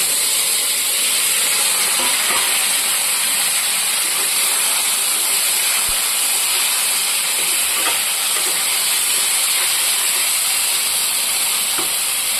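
Potato and aubergine pieces frying in hot oil, a steady loud sizzling hiss with occasional crackles throughout, no voices.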